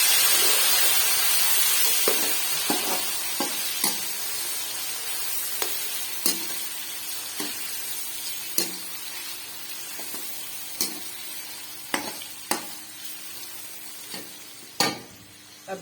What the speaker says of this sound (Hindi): ऐसे अब इसको भूनेंगे इस टमाटर के साथ